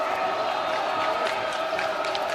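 Crowd at a high school basketball game between rival teams cheers and roars in a steady, continuous wash of noise without a break.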